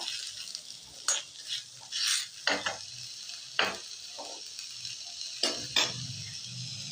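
Elephant foot yam bharta gets stirred in a pan, with sharp intermittent scraping strokes of a spatula over a faint background hiss, and no voices.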